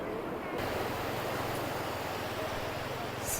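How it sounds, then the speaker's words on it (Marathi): Sea waves at Shrivardhan beach form a steady, broad wash of surf noise that runs the whole way through, with wind buffeting the microphone and a low rumble underneath. "कसा आहे समुद्राच्या लाटांचा आवाज"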